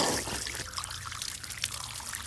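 Water trickles and dribbles into an emptied picnic gas canister, pushing the remaining gas out, a continuous gurgling, bubbling stream heard close up without talk.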